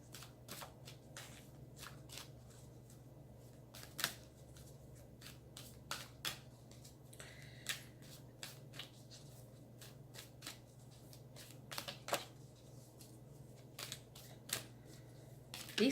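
Large tarot cards are shuffled by hand in a quiet room, a run of soft papery riffles and sharp flicks recurring irregularly, close and fairly faint, with no talking.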